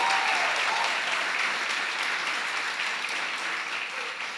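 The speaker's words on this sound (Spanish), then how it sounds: "Denle un fuerte aplauso" A church congregation claps loudly for a pastor, a dense, continuous burst of applause that holds strong for about four seconds and tapers slightly at the end, with no speech.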